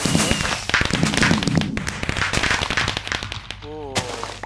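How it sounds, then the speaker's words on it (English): Fireworks burst repeatedly in the video game Minecraft, a dense run of sharp crackling pops over a steady background, with a voice talking throughout. "the fireworks are getting me lagging"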